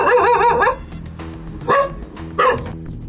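A frightened dog named Boksil barks in a few loud, deep bursts, starting with a sustained wavering yowl and followed by two sharp barks spaced apart, close by.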